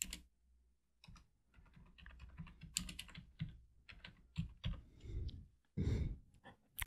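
Someone types a search into a computer keyboard in a quiet room, with soft close key clicks in uneven bursts, a brief pause, then more keystrokes and a faint breathy sound near the end.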